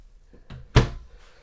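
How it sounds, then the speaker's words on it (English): A sliding farm-style door inside an RV is pushed along and knocks shut with a single firm thud after a light rattle, close and alone. "You have a pocket door that slides on both sides."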